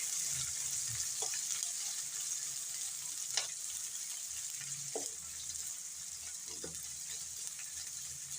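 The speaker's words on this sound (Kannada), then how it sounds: "ಈರುಳ್ಳಿ ಹಾಕ್ಯಂತಾನೆ ನೋಡ್ರಿ. ಈಗ ಇದನ್ನು ಮಿಕ್ಸ್ ಮಾಡ್ತಾನೆ ನೋಡ್ರಿ." Onions fry in a pan on a low flame, a constant bright sizzle with a low rumble below, broken by four or five scattered spatula scrapes and taps as they are stirred.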